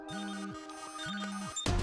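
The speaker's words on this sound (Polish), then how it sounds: "sygnał alarmowy" A two-tone electronic alarm rings in repeated rising and falling bursts, loud and alone, ending in a sudden burst of noise.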